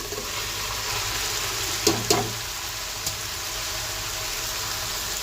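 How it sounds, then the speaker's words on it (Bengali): Boiled vegetables go into masala frying in a pan, bringing a steady close sizzle and a couple of sharp clatters in the middle as they land and get moved around. "কষানো শেষ পর্যায়ে এখন আমি বয়েল করা সবজিগুলো দিয়ে দিচ্ছি।"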